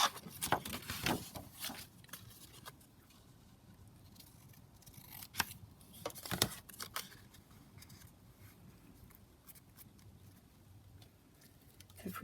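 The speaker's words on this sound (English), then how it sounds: "So let's cut this one down." Scissors snip through background paper during a papercraft session, with a few sharp cuts near the start and more around the middle, then quieter handling of the paper.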